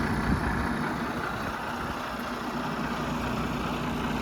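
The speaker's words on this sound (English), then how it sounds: "So Ant's just giving it the full test run now, just to make sure everything's working well" A Case IH 7250 combine harvester runs at steady speed during a test run, giving a continuous low engine drone with a faint whine above it. The sound stays level throughout, close and with no talk.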